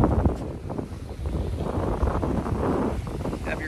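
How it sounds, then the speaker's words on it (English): Steady wind buffets the microphone on a beach in Moorea in a continuous roar, with a faint wash of surf underneath and no clear voices. "A little windy today, so that's supposed to die down."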